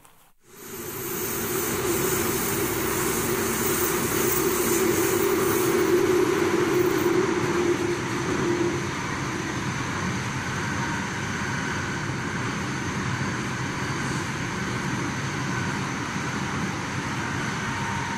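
A packed metro train rides through a tunnel with a loud, steady rumbling roar and a droning hum that eases slightly midway, heard close from inside the carriage with no speech.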